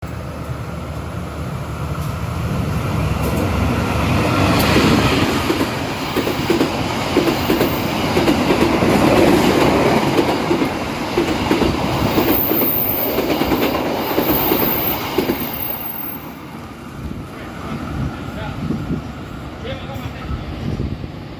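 The Matarmaja passenger train rolls into an Indonesian station with a steady rumble and clattering wheels, a high metallic squeal rising briefly near the middle, with indistinct voices underneath.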